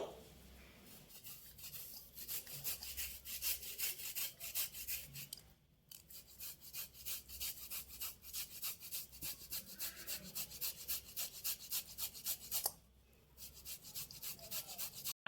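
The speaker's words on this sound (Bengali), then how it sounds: "এবারে গ্রেটারের সাহায্যে আলুগুলো গ্রেট করে নেবো" Boiled potatoes grated on a hand grater for aloo kulcha filling, giving steady rhythmic rasping strokes close up, with two brief pauses, and no talking.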